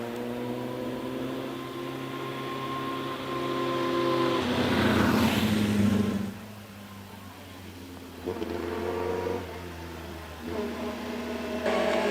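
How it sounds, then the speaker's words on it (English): Mike's Gillow Special, a vintage racing car, labours up a hill climb course, its engine droning and rising in pitch as it accelerates, swelling loud mid-way then easing and carrying on at a steadier note. "Mike's Gillow Special will be a bit of a trouble dragging itself round Pardon, but he manages it and is away."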